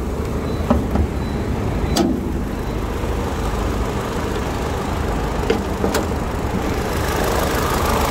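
Imported 2009 sedan with a 1.6 engine and automatic gearbox idling, a smooth, steady low hum at even level with a few faint clicks and knocks, no talking.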